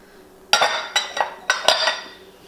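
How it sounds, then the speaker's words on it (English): Applesauce goes into a mixing bowl during home holiday baking, with a few sharp clinks and knocks of utensil against bowl in short irregular bursts, close and fairly loud. "So we're gonna add our applesauce into our mixture."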